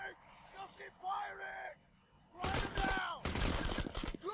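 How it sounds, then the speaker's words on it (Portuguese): Bursts of rapid gunfire in the video game Payday: The Heist erupt in the second half, loud and dense, following a stretch of shouting voices. "tomando tiro"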